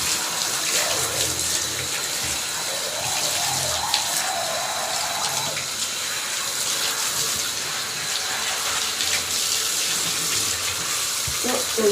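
Steady running water rinses soap off a dog during a home bath, a continuous splashing gush like a tap or sprayer that holds at an even, close level for the whole stretch, with no one speaking over it.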